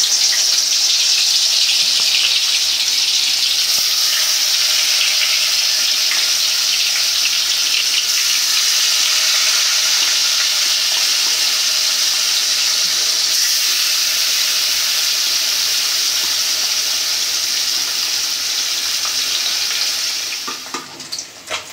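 Koi fish sizzles and crackles steadily in hot soybean oil, a loud, dense frying hiss that holds evenly for about twenty seconds before easing off near the end, with no talking.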